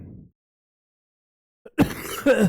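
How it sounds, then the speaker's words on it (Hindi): A brief cough bursts out after a pause, followed by a person talking nearby. "सॉरी, खांसी आ रही थोड़ा मेरी।"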